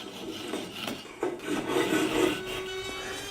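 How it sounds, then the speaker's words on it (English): A Japanese pull saw rasps through glued-in wooden splines on a small wooden box, giving a few close, scratchy back-and-forth strokes that build into steadier cutting. "cutting the splines off with my Japanese pull saw"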